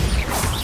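A Bombarda blast spell detonating in Hogwarts Legacy, a short dense burst with heavy low rumble and crackling debris across the whole moment, loud and close.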